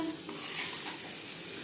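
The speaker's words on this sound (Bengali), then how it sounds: "ডিম ভাজা হয়ে গেছে।" Eggs fry in a pan for an egg khichuri, giving a brief, steady sizzle with light scraping as they are stirred, and no one speaks.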